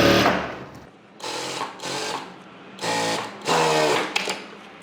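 A sewing machine runs in several separate bursts, each a second or so of steady whirring and stitching, as it sews an inner seam on a blouse; loud and close, with short pauses between runs.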